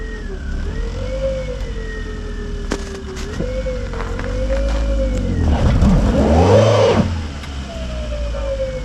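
A turbocharged all-wheel-drive Honda Civic engine revs, rising and falling in pitch with a swelling peak around the middle before settling back, loud and close with a siren-like whine over a steady low rumble.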